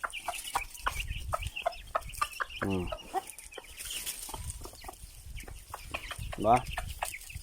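Native and Asil cross chickens cluck steadily nearby in a quick, busy rhythm, with a few louder squawks and a voice speaking briefly underneath.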